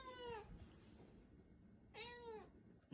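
A cat meows twice on a porch at night, two drawn-out descending calls about a second and a half apart, close and clear over a faint background hiss.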